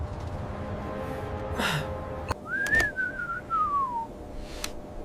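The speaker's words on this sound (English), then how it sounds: "Probably just the wind, Leo." Eerie whistling tone rising then slowly gliding down over a few seconds against faint background noise, with short breathy gusts and a sharp click before it, at a spooky construction site at night.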